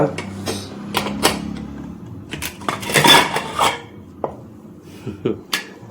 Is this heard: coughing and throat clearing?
no